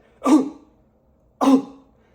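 Two short, deliberate coughs, close and clear, separated by about a second of silence.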